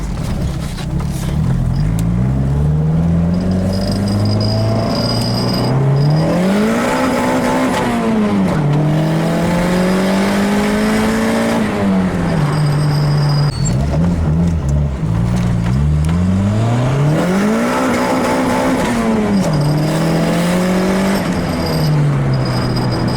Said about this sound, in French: je fais exprès juste de faire spooler le turbo